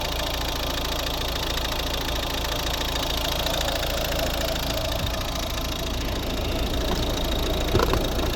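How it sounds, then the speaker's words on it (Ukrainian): A 2011 Volvo V50 1.6 D2 diesel engine idles with a steady, even rumble and a faint knocking texture, close and continuous throughout. "Дуже класно працює двигун і їде дуже добре."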